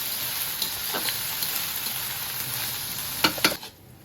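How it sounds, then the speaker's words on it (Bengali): Ginger, garlic paste and onion frying in a pan give a steady close sizzle with light stirring scrapes, then a couple of sharp clanks before the sound drops away at the end. "আমার আদা রসুনটাও পেঁয়াজের সাথে সাথে ভাজা ভাজা হয়ে গেছে"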